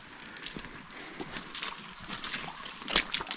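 A small mountain stream in a Carpathian forest trickles and splashes nearby, a soft, uneven flow with brighter sloshes toward the end.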